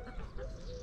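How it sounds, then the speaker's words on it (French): Hens being released let out soft clucks and short calls over low rumbling background noise, fairly close, in a brief burst. "là, on libère les poules"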